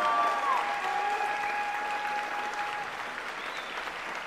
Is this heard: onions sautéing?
no